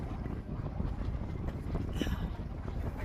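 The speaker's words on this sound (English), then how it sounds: "Oh my god, it's windy." Steady wind buffeting the microphone, a dense low rumble with gusty surges throughout and no speech.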